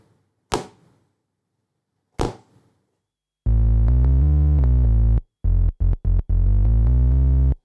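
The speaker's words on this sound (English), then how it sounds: "So it's just set to like a fairly straightforward bass synthy kind of sound." Two sharp clicks, then a loud, buzzy Arturia MiniBrute synthesizer bass tone sustains, breaks into several short stabbed notes, and holds again.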